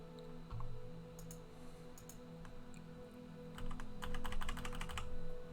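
Keys clack on a Logitech computer keyboard in a run of quick, uneven taps, close and fairly faint, growing denser toward the end over a low steady hum.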